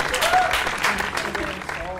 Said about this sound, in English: round of applause to the band